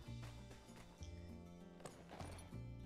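Horse hooves clop in a steady rhythmic patter from the video game My Time At Sandrock, faint and mixed with game music and ambience.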